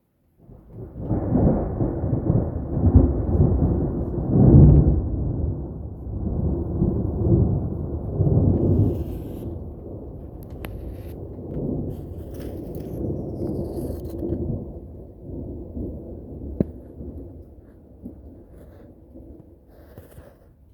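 Rumbling thunder following lightning during an August hailstorm, a loud sustained roll that swells in the first half and slowly fades into a lower, steady rumble.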